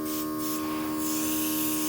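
An airbrush sprays watered-down paint onto paper with a continuous steady hiss and buzzing compressor tone, close and alone for about two seconds.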